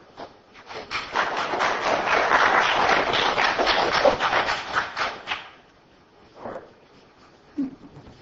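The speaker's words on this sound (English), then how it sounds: "Sometimes clapping's okay." Clapping from a room of attendees at a Calaveras County Board of Supervisors meeting, starting up, swelling into a dense burst for several seconds, then tapering off into a few scattered claps and shuffles.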